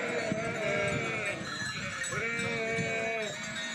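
A flock of sheep on a Sardinian farm by the Emerald Coast bleats in clear, wavering calls, a few overlapping voices rising and falling close by with little else beneath them.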